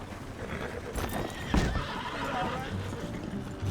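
A horse in the video game Red Dead Redemption 2 lets out a loud whinny over the clip-clop of hooves, with characters talking alongside.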